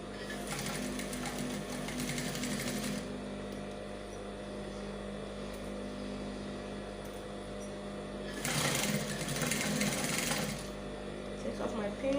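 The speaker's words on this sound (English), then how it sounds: "So then I'll take off my pins as I sew." A sewing machine stitches along the curved edge of a shirt collar, its steady motor whir running in two loud bursts with a quieter hum between while pins are pulled; soft talk sits underneath.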